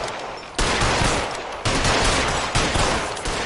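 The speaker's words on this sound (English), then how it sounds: "I want to shoot down all the lights in North Broadway." Gunshots from shooting out street lights on North Broadway in the video game L.A. Noire, three loud sharp reports spaced about a second apart, each ringing out and fading into noisy ambience.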